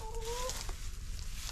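Backyard hens clucking softly over a low background hum, with a brief higher call at the start, a few short clucks following, fairly quiet and close.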